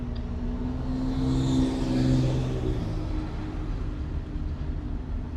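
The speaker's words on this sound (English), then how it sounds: "all the Porsches are firing up and leaving out" Porsche sports cars start up and pull away on a narrow road near Tulameen, British Columbia, their engines a steady low rumble that swells briefly as they rev, heard from nearby with no talk.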